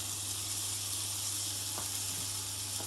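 Chopped onion sizzles and fries in a little butter in a pan, a steady, close, continuous hiss.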